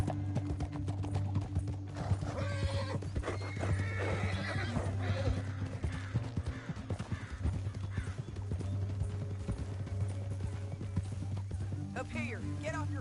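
Horse hooves clip-clop steadily and a horse whinnies in the Western video game Red Dead Redemption 2, heard under game music and characters' dialogue.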